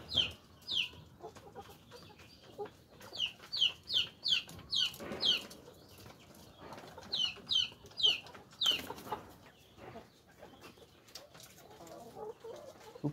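Layer hens kept as a hobby flock cluck in repeated short bursts close by, mixed with soft background noise and occasional rustling.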